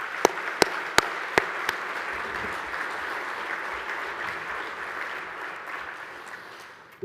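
An audience at a hardwood industry convention's opening session gives a sustained round of applause. A few sharp, close claps stand out at the start, then a steady even wash that fades slightly at the end.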